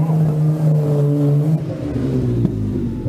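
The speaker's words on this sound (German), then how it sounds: "Also der berühmte, große Mercedes 300 gefahren von der Familie Schulte-Obersohl" Vintage Mercedes 300 rolling through an oldtimer street parade, a loud steady engine drone with a low rumbling idle that shifts pitch slightly as it moves, close and continuous, with crowd ambience behind.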